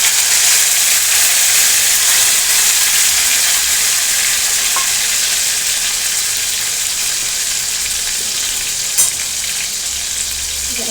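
Tomato and ground masala paste frying in oil in a pan while being stirred, a loud steady sizzle up close with occasional scraping, and no talk.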